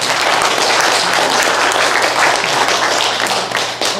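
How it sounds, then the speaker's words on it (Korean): A church congregation applauds continuously during a sermon, a dense, loud patter of many hands clapping throughout. "그럼 박수 한번 보내주시기 바랍니다."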